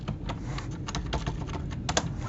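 Continuous typing on a computer keyboard, with a steady run of quick, light key clicks and a few firmer presses standing out, close up with no talking.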